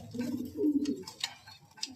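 A pair of racing pigeons with race results coo in a low, rolling phrase at moderate distance, followed by quieter pauses and a few light clicks and taps.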